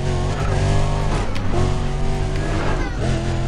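Steady, loud roar of a Porsche's engine in the racing game Need for Speed Undercover, holding a sustained high-revving tone with shifts in pitch as it drives, with faint tire noise beneath.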